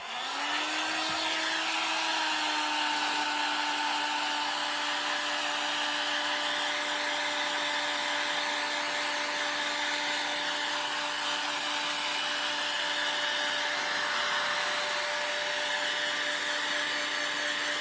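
A hair dryer runs continuously to dry paint on a rustic cottage-style project, a steady whining blow with a fixed tone that starts abruptly and holds unchanged, nearby and without talk.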